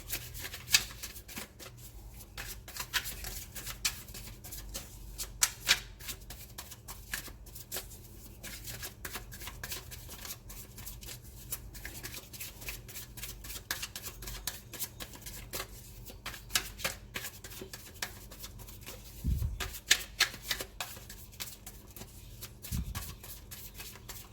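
Tarot cards are shuffled repeatedly in a quiet room, producing rapid crisp riffling and flicking bursts that continue steadily, with a few soft handling thumps.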